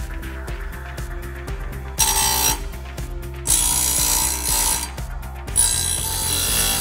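A Timber Tuff bench chainsaw sharpener sharpens a saw chain in a workshop: a steady motor hum with loud, harsh grinding bursts each time the wheel bites a tooth, no talking.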